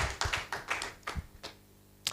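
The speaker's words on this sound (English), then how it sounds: "Please can we give her a round of applause?" A few scattered hand claps from an audience at a launch event, irregular and sparse, with several loud smacks trailing off into a last sharp clap after a pause.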